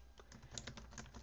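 Quick, quiet keystrokes on a computer keyboard, a steady run of close clicks with no voice over them, as code is entered in an Android programming setup.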